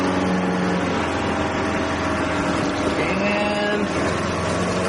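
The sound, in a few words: 1975 Mercedes-Benz 300D diesel engine accelerating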